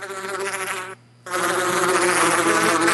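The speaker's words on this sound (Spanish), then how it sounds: "¡Moscas! ¡Abejas!" Flies and bees buzzing in modded Minecraft, a loud close insect drone with a steady whining tone, briefly cutting out for a moment before resuming just as strong.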